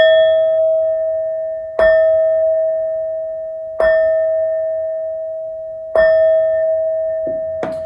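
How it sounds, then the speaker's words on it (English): A bell rung four times in a calm setting, each strike sharp and loud with a long, clear ringing tone that fades slowly until the next, at roughly two-second intervals. "These next 4 bell sounds are to align us and to bless this reading."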